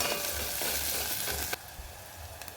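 Sliced onion frying in oil over medium gas until golden, a dense bright sizzle that drops abruptly to a quieter crackle partway through, with a few faint stirring clicks and no talk.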